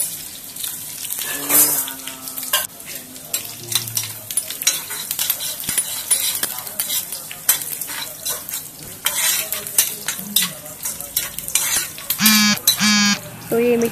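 Cumin, mustard seeds and finely chopped onion are stirred in hot oil, with a steady sizzle under repeated scraping strokes of a spoon against the pan, close and fairly loud throughout, plus a few brief clinks and bumps.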